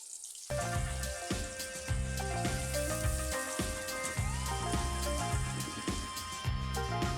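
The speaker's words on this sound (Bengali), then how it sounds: "এবার আমি পেঁয়াজ কুচিটা দিয়ে দিচ্ছি" Chopped onion dropped into hot oil with panch phoron for a rui fish curry with broad beans, bursting into a loud, dense, continuous crackling sizzle that carries on steadily, with faint clinks and a steady background tone.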